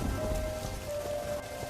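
Heavy rain in a cartoon pours as a dense, continuous wash of noise, loud and close, with a thin steady tone running beneath it.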